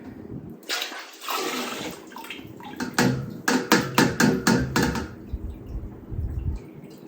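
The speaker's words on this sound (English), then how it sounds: "I'm going to set this pan now in here, and it's just going to drain from the bottom." Pickle brine draining from the bottom of a pan into a pot gives a close, gurgling run of water, with a burst of rhythmic splashing pulses midway before it settles into a thinner trickle.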